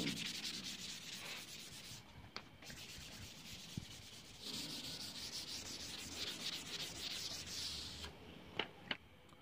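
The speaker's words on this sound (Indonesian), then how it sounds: "lalu kita amplas pinggirnya seperti ini" Steady hand sanding of wood edges, a dry rhythmic rubbing of abrasive on wood, close and continuous with a few brief pauses and taps.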